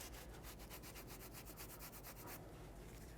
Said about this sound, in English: I will, however, wipe this off and apply some new anti-seize.